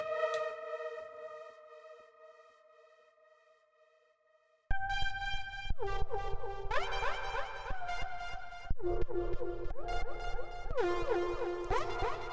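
Sustained synth pad chords from a Waldorf Kyra, first a soft tone that fades, then a loud distorted swell with echoing delay repeats and shifting notes.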